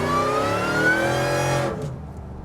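A Ford Lightning truck pulls away hard from a standstill on a back road, its engine climbing steadily in a loud, close rising roar before cutting off abruptly.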